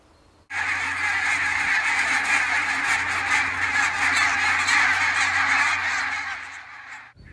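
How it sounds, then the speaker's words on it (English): A large flock of barnacle geese honks in flight over the Solway, dense overlapping calls that are loud and continuous for several seconds before fading out. "A fantastic sight of barnacle geese flying into the Solway"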